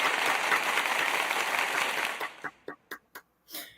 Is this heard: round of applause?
yes